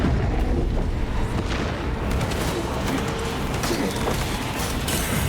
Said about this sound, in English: Brace for demonic bombardment.